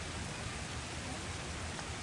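Rain beginning to fall at a shop building site in Mahuva, a faint, steady hiss of drops with no distinct individual patters.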